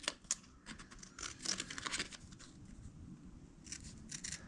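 Hand-made sheet metal patch panel being cut out for rust repair near a car bumper, a quick series of crisp snipping clicks in irregular bursts with pauses, close but fairly quiet.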